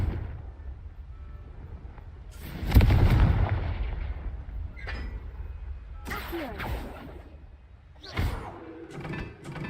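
Confringo fire spell explosions in Hogwarts Legacy: loud booming blasts, the biggest near the start followed by two more bursts, each fading into rumbling crackle over steady game ambience.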